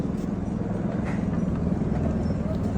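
Horses on the Kedarnath trek climbing steeply under loads and riders, their hooves making a dense, continuous low clatter amid steady crowd and trail noise.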